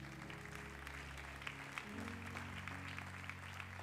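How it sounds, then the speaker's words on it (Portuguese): Church congregation clapping during a worship service, a steady, moderate patter of many hands under a sustained organ-like keyboard chord that shifts pitch partway through. "Você pode dar mais uma salva de palmas ao Senhor?"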